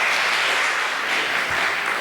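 Audience applause at a school assembly, a steady dense wash of clapping for the presenters of a medal, sustained and fairly loud with no voices over it.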